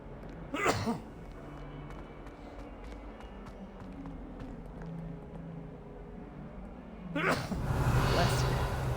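A sneeze bursts out sharply near the start, and a second forceful one follows later over steady background game noise from Hogwarts Legacy.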